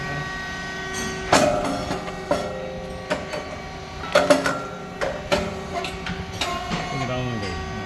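An SYP8002 rice cake machine with titanium-coated moulds, making cakes about 7 mm thick, runs with a steady mechanical hum and clanking. Sharp bursts of popping and hissing recur every few seconds, and faint voices are heard in the background.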